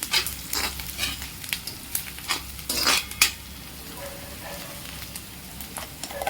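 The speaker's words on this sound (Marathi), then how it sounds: "त्यात हे वाटण घालू आणि वाटणही परतून घेऊ" Ground masala paste made from country-style chutney sizzles with browned onion in a pan as a spoon stirs and clinks against the metal in uneven bursts, close up, with no talking.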